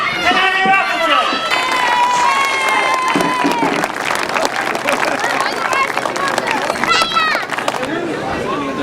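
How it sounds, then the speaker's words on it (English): Spectators clap and cheer steadily at the prize-giving of the 2007 European solo grasstrack final, a dense, close wash of applause with voices and crowd chatter mixed in throughout. "Let's give it a round of applause and to Stephan, and Appleton."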